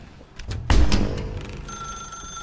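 A telephone rings in The Stanley Parable, a loud bell-like trill that cuts in sharply and then hangs as a sustained ringing tone, with no talking over it.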